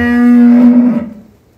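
A calf at a dairy farm gives one loud, close moo with a clear tone that holds and then fades over under two seconds.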